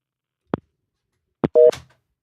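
Phone line tones sound while trying to get a caller through: a couple of soft clicks, then a short, clear electronic tone burst that quickly fades into near silence.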